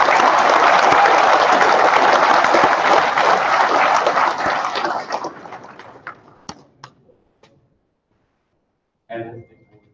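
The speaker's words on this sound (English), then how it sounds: "Y'all give them a big round of applause." Crowd at a catfish tournament captains meeting in Memphis clapping loudly and densely, then thinning to a few scattered claps before fading out, with a voice briefly returning at the end.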